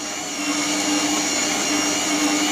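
A Silvercrest food processor fitted with a kneading hook works dough in a steady, loud, continuous motor whine with a droning hum, running alone without talk.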